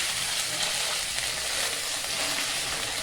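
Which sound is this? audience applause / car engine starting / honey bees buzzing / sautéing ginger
sautéing ginger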